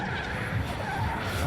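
Drift car tires skidding and squealing through a handbrake initiation at a drift competition, a loud continuous screech with engine roar throughout, close and steady for the whole moment.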